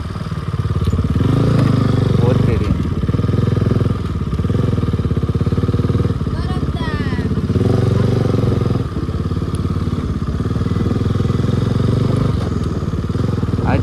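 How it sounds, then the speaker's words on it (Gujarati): Motorcycle engine running steadily while riding near Tulsishyam in the Gir forest area, a continuous loud drone with bumps and clattering, close to the microphone and with no speech. "ચાલો હવે આપણે બાઇક લઈને નીકળીએ"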